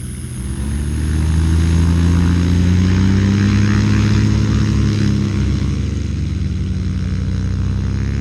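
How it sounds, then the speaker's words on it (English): Cessna 180 piston engine running up close and loud after starting, a steady heavy propeller drone with strong low harmonics that swells in the first second and then holds, with no talk. "the sound of the starting C-180 almost hurts"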